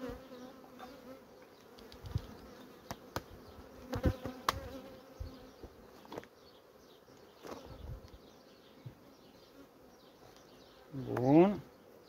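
Honeybees from a strong colony packed onto a few hive frames, a faint continuous hum with a louder buzzing swell near the end as a bee passes close. Scattered handling clicks and knocks sound throughout.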